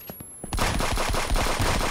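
Rapid automatic gunfire in the shooter game Friends vs Friends: a quiet lead-in, then a loud, dense stream of shots that continues without a break to the end.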